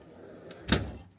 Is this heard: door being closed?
yes